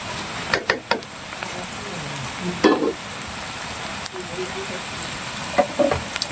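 Egg curry sizzling and being stirred in a pan, a steady fry hiss broken by several scraping, clattering strokes of a spoon against the pan, close up.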